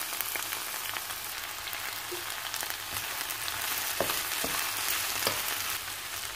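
Onions and mushrooms sautéing in olive oil in a frying pan over medium-high heat give a steady, close crackling sizzle with scattered sharp pops and no talk.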